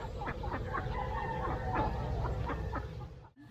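Domestic ducks kept on a farm cluck and call in a continuous, close, busy chorus of overlapping squawks, with steady outdoor background noise beneath them.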